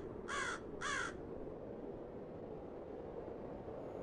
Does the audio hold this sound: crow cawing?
yes